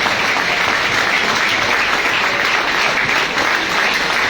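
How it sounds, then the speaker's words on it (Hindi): A large standing audience at a seminar gives loud, thick applause, an unbroken wall of clapping that holds at full strength for the whole stretch. "आज मैं आप सभी लोगों के सामने भगवान को धन्यवाद देना चाहूंगा, खड़े होकर जोरदार तालियों के साथ।"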